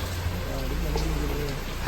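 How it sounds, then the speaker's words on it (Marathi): Heavy monsoon rain pouring on an open plateau, a dense continuous hiss with a low rumble, while a voice talks briefly. "इथे ढगपुटी झाल्यासारखा पाऊस"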